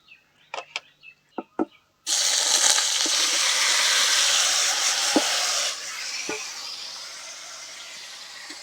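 Chicken pieces dropped into hot mustard oil with fried cumin break into a sudden, loud, steady sizzle after a few sharp clinks, hissing strongly for several seconds before easing to a quieter fry with occasional taps.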